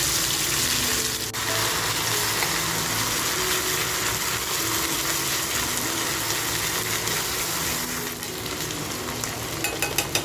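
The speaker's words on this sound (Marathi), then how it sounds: "आपण जो ठेचा करून घेतला आहे तो तेलात टाकूया." Crushed green chilli and garlic thecha sizzles loudly in hot oil in a kadhai for Mandeli kharda, a steady dense frying hiss with no voices.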